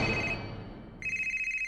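A cell phone rings in a Scooby-Doo Mystery Incorporated cartoon scene, a bright warbling electronic tone that breaks off, pauses, then returns louder and steady, with a hum beneath it.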